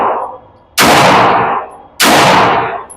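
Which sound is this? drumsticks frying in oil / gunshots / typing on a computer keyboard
gunshots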